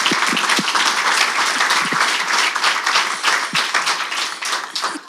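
An audience bursts into applause for a group of speakers, a dense, sustained wash of many hands clapping close by, holding steady and only starting to thin at the very end.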